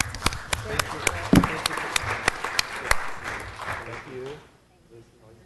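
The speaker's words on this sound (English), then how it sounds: "let's give him a round of applause" An audience at a city council meeting claps in a short burst of scattered applause. The sharp claps come close together and then fade out, with voices murmuring underneath.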